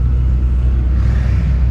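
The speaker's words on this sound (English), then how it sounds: "The Agera R just revved." An Agera R hypercar's engine gives a loud, close, deep rumble that holds steady through a short burst, with no voices over it.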